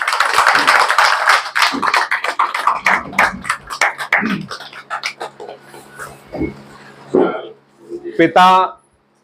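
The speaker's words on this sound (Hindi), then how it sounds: "हम सबकी तालियां उसके साथ हो।" Applause from an audience at a Sindhi community gathering in Bhilai honoring a new chartered accountant: dense, loud clapping that thins into scattered claps and fades, followed by a brief burst of talk near the end.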